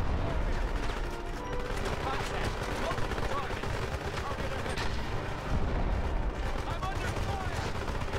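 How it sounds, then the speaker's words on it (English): Rocket launcher fire in the Xbox 360 game 007 Legends, Goldfinger level, amid a dense ongoing battle of booming blasts and gunfire, loud and continuous throughout. "Yeah, I'm really missing with this rocket launcher."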